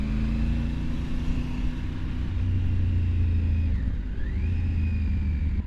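Steady engine and road noise from a car cruising at about 40 to 50 km/h, a continuous mid-level rumble with a brief dip in pitch as it shifts, no talking.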